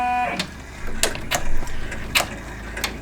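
A Brother PR1055 multi-needle embroidery machine starting to stitch, giving a few sparse, close mechanical clicks and light thumps over a low steady hum.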